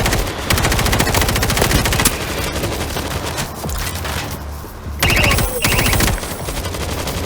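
Rapid automatic gunfire from players fending off a zombie horde in the video game World War Z's Horde Mode, loud and continuous with bursts overlapping throughout.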